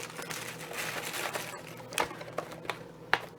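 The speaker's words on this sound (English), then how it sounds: "I'll just roughly crumble those up here into the work bowl of my food processor." Graham crackers, cinnamon-sugar coated, being roughly crumbled by hand into a food processor's work bowl, giving a steady dry crinkling rustle with a few sharper snaps near the end, close and alone.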